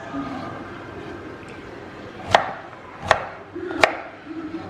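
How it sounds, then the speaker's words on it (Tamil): A knife chops sweet potato into small cubes on a board, three sharp distinct strikes ringing out under a soft background voice. "ஸோ இதை இப்போ வந்து சின்ன சின்ன க்யூப்ஸாக தான் கட் பண்ண போகிறேன்"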